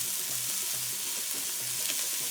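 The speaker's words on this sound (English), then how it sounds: "I'm using the same pan for saute the shallot" Shallot and bay leaf sauté in a pan for lamb rogan josh, giving a steady, close sizzle of frying throughout with no talking.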